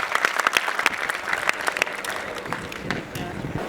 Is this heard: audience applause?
yes